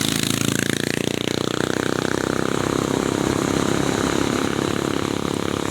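A motorcycle engine labors loudly and steadily while climbing a steep bypass road in Gumaca, straining uphill as it is being pulled up, with a continuous close rumble and no pauses.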